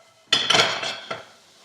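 A utensil scrapes and clatters against a pan while garlic and onion are stirred, in a loud burst of about a second followed by a shorter scrape, close by with no talking.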